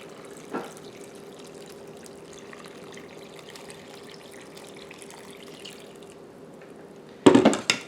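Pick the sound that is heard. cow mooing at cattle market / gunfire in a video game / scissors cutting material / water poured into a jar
water poured into a jar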